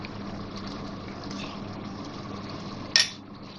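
A small amount of blended onion and yogurt mixture goes into a pan of frying masala for egg korma, making a brief, sharp splash and sizzle near the end over a quiet, steady kitchen background.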